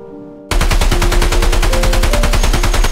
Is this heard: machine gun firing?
yes